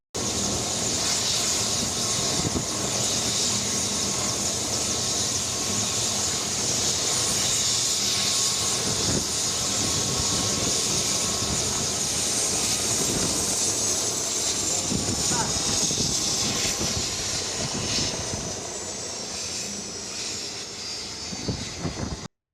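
Steady loud rotor and engine roar of an arriving helicopter in Karaikal, continuous for the whole stretch, fading slightly near the end.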